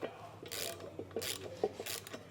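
A ratchet wrench tightens bolts on an underbed gooseneck trailer hitch being installed in a 2025 Ford pickup, with three quick rasping bursts of clicks close by and short pauses between them.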